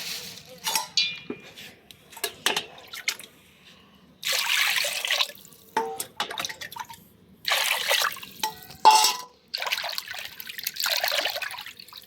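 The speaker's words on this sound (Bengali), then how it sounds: "যদিও মাছ ধুয়েই রাখছিলাম, তারপর আরও সুন্দর করে একটু ধুইলাম।" Pieces of rohu fish are rinsed by hand in water in a home kitchen, giving intermittent splashes, drips and sloshing bursts separated by short quiet gaps.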